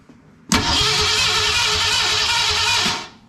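A restored 1979 Ford F100 with a brand-new engine cranks and catches on first fire, bursting into a loud steady roar that holds for a few seconds, then dies away.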